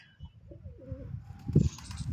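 Flying-breed pigeons coo nearby, with a short, soft, low rolling call over faint background noise and a slightly louder burst near the end.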